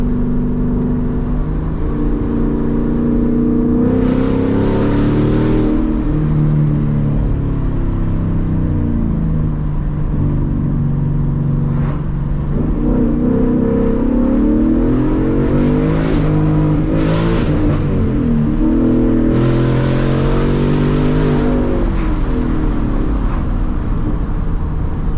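A Ford Mustang GT V8 pulls in low gear, its engine note climbing repeatedly through rising revs with brief dips between shifts, steady and close from inside the car.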